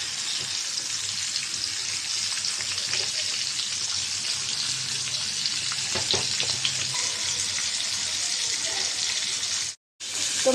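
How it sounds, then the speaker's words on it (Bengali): Silver carp pieces frying in hot oil in a pan, a steady dense sizzle and crackle that continues throughout, briefly cutting out near the end, with no talking over it. "তেলটা গরম হয়ে গেছে, মাছ দিয়ে দিলাম"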